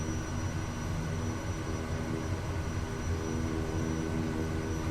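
An airplane taxis on idle power in Microsoft Flight Simulator, a steady, even engine drone and broadband hum that holds constant throughout with no talk.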